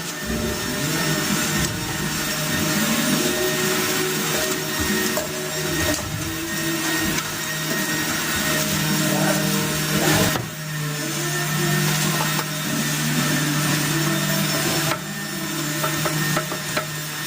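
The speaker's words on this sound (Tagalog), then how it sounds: "yung malaking grinder natin sa pag-asa dito" A loud, steady machine drone with a constant low hum and harsh broadband grinding, running continuously with brief dips, from a large floor grinder sanding a wood floor with 100-grit sandpaper.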